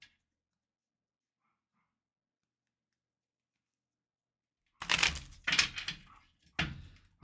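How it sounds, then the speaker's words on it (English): A dog barks three times in quick succession in the background after several seconds of near silence, the barks sharp and fairly loud against the quiet. "Can you guys hear that dog in the background?"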